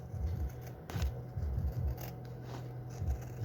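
Scissors snip through an embroidered patch fabric near the satin edge, giving a few quick close cuts with soft rubbing in between and no talking.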